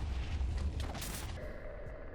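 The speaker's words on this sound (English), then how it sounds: "there were massive explosions" Massive explosions in Minecraft during a fight, heavy low booming rumbles with a bright crackling burst near the middle, loud and continuous over about two seconds with no talking.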